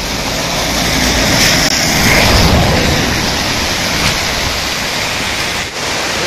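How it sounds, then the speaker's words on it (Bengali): A mountain stream rushes in the gorge below the hill road to Mungpoo near Darjeeling, a loud, steady broadband roar of flowing water with a slight swell midway. "নিচে একটা পাহাড়ি ঝর্ণা, জল যাচ্ছে নিচ দিয়ে"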